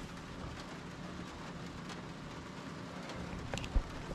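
Rain falls steadily on a parking lot, a soft continuous patter and hiss at low level, with a couple of small knocks near the end and no talking.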